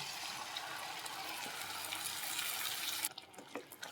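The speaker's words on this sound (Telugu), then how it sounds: "అదే జార్లో కాస్త వాటర్ యాడ్ చేసి ఇలా తొలిపి ఇలా పోసింది" Water swirled in a blender jar is poured out for brinjal curry, a faint, steady splashing pour lasting about three seconds before trailing off into a few drips.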